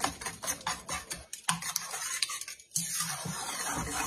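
A French toast bake mixture with vanilla being stirred in a bowl, heard as quiet, rapid ticking and scraping strokes that pause briefly before picking up again.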